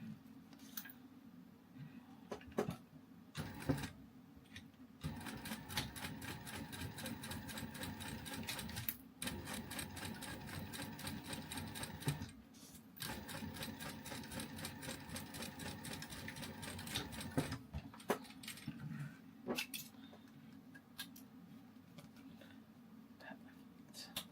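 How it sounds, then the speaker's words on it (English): A sewing machine top stitches through multiple layers of a coffin wallet, running in steady rapid bursts with a few brief stops, fairly close but quiet. "I'll just clip this to hold it while we top stitch."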